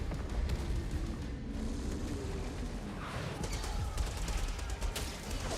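Heavy gunfire from big guns in DOOM: The Dark Ages, a sustained, dense barrage of rapid blasts and rumbling impacts that keeps up steadily throughout, loud and continuous with no clear speech.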